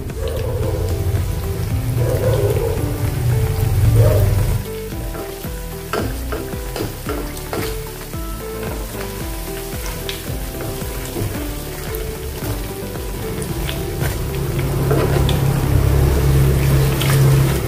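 Mixed dal vadas frying in hot oil over a low flame, a steady close sizzle with bubbling and occasional stirring, continuous throughout with no talking.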